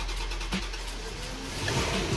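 An old non-carburetor car engine runs with a low, steady rumble close by and no one speaking.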